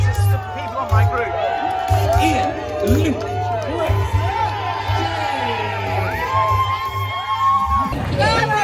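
Dense, lively crowd cheering and whooping along the London Marathon course near mile 12, with shouts and chatter close by and a steady roar throughout.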